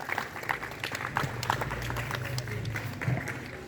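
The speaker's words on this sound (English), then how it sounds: "Clap with interest." A group of students clapping at a school morning assembly, a soft scattered patter of hands that swells slightly near the end, with some low murmuring and movement underneath.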